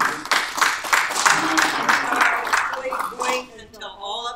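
An audience at a candidate forum claps in a short burst of many hands that fades after a few seconds, then a voice begins speaking.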